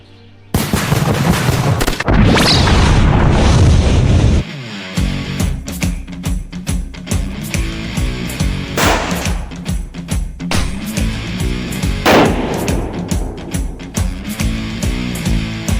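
Unsuppressed rifle shots from a Tikka T1x at a shooting range, loud sharp cracks with a long booming tail, followed by repeated firing at an irregular rhythm, with no voices.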